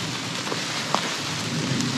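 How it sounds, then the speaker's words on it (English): A thunderstorm near an old rural homestead in Florida brings steady heavy rain hiss with a low rumble of thunder underneath and scattered drip impacts, loud and continuous, no talking. "Hear a lot of thunder. The storm sounds violent."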